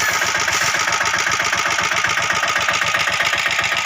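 A mini reaper for cutting wheat and rice runs its small engine steadily nearby, a loud, even chugging drone with a fast pulsing beat and no pauses or voices.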